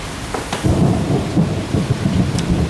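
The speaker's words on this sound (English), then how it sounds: "I'd say that with this downpour, autumn is here." Thunderstorm with a heavy autumn downpour: steady broadband rain roar fills the clip, with low rumbling thunder swelling underneath and a few sharper cracks, close and loud, no voices.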